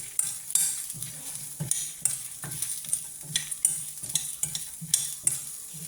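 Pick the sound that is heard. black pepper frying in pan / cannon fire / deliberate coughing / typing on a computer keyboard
black pepper frying in pan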